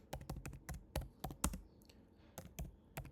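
Close, quiet keystrokes on a computer keyboard while an AI image prompt is typed, a quick irregular run of clicks, then a short pause and a few more taps.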